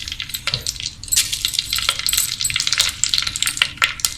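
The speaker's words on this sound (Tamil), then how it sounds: "எண்ணெய் சூடாயிடுச்சு. இதில் கொஞ்சம் கடுகு போட்டுக்கலாம்." Mustard seeds sizzle and pop in hot sesame oil in a pan at the start of a fish curry. Sharp crackles and spatters burst loudly and close, with no talking.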